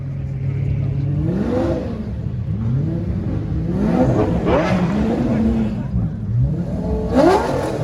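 Sports cars, a Porsche GT3 RS and a Lamborghini Gallardo among them, roll out one after another at a car gathering, engines revving in several rising sweeps over a steady low rumble, fairly close.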